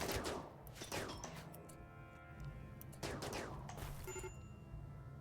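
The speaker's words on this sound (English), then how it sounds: "Look at look how fast they can shoot with just the turrets." Auto turrets firing in RimWorld, rapid bursts of sharp repeated gunshots in quick succession, with louder volleys around the start and midway, close and continuous.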